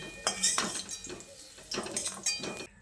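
Fried potato and radish are lifted from the pan into a dish, with a few separate clinks and scrapes of a utensil against metal and crockery, close and fairly light.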